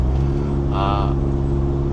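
A 2021 Ford Bronco's small four-cylinder engine drones steadily under load while towing the 5,000-pound SUV, a continuous close hum with a brief rise in pitch midway.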